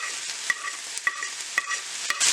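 Ground turkey filling with tomatoes, enchilada sauce and cilantro stirred in a pan, a steady close frying hiss broken by spoon scrapes about every half second.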